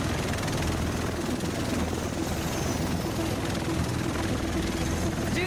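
A helicopter in the video game Tom Clancy's The Division gives a steady, loud rotor thrum and engine roar, constant throughout with a dense low rumble and no distinct breaks.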